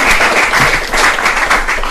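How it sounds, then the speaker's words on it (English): Loud, close applause from a debate audience, a steady wash of clapping for the whole stretch with no talking over it. "Please applaud her."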